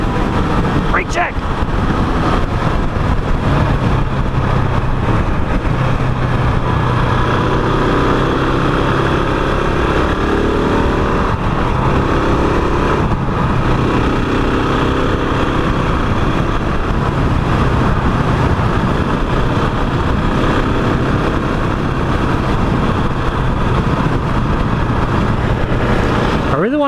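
A 2021 KTM 690 Enduro single-cylinder motorcycle engine runs steadily through a test ride at a demo day, a loud constant drone with wind buffeting throughout and a few shifts in pitch.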